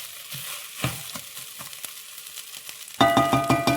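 Soaked rice frying in a pot for biryani, a steady low sizzle with scattered stirring scrapes, turning louder and denser near the end as the rice is moved around more vigorously.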